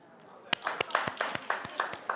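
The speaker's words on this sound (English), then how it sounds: "clap if you love them" A studio audience claps in sharp, separate bursts at an uneven rhythm, each crack distinct over a quiet background of low crowd murmur.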